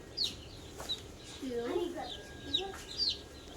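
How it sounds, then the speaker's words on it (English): Cornish cross meat chicks on a homestead give scattered high peeps and soft clucks, fairly quiet and close, while a person talks over them. "our little chicky nuggets here, our meat chickens, jumbo cross, Cornish cross"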